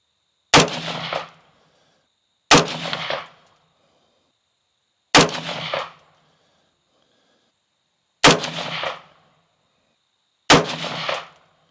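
Five sharp rifle shots from a Palmetto State Armory JAKL fired as a group at a 50-yard target, each a loud close crack with a short decaying ring, spaced two to three seconds apart with silence in between.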